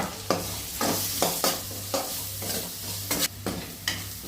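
Onions, curry leaves and green chillies fry in a pan with a continuous close sizzle, broken by repeated scraping stirs at a regular pace, and no voices are heard.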